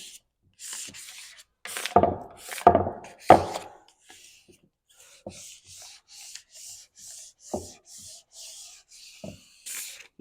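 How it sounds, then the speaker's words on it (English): A white squeegee is pressed firmly over a stencil on a wooden piece, making a series of dry rubbing and scraping strokes: a few loud, heavy passes first, then lighter, quicker swipes, close up with no talking. "you're going to get your white squeegee that's in your kit, and you're going to use a little bit of force to stick the stencil onto the wood."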